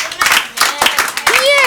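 A congregation claps at a church celebration service, a few loud, irregular bursts of hand clapping close by, mixed with crowd voices and a rising whoop near the end.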